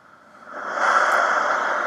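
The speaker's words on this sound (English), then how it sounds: "was done simply by a noise oscillator and a filter" Noise from an oscillator is swept through a rising filter to suggest sudden camera movement outdoors, a soft airy whoosh that swells over a second and then holds steady, alone.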